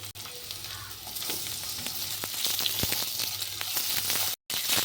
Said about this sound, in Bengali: পুঁই মেটের ঝাল রান্না করতে প্রথমে আলুগুলো একটু ভেজে নিচ্ছি